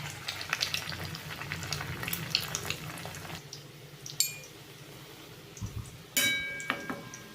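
Maggi noodle pakoras drop into hot oil and deep-fry, a continuous crackling sizzle broken by a few clinks and splashes, close and moderately loud.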